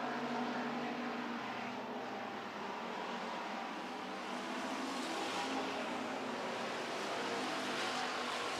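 Street stock race cars roar around a racetrack during a heat race, a continuous distant wash of engine noise with no clear passes standing out and no voices.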